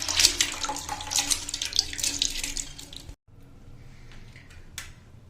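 Water runs into a pan for boiling daal mash, a steady splashing stream for about three seconds, then a quieter trickling after a brief pause.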